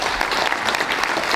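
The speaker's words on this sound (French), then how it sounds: "je vous demande d'accueillir M. Morisset sous vos applaudissements" An audience bursts into steady, dense applause to welcome a guest at a cycling race's season presentation, the clapping close and continuous through this short stretch.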